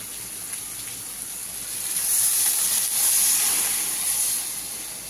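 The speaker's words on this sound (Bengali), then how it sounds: "এবার আমি দিয়ে দিচ্ছি পরিমাণ মতন জল।" Water is poured into a hot pan of potato, bean and fish curry, raising a loud steamy hiss and sizzle that swells midway and then eases off. No one speaks.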